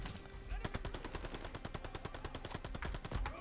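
Rapid sustained machine gun suppressive fire in the video game Call of Duty: Vanguard, a loud, evenly spaced burst of shots running continuously without pause.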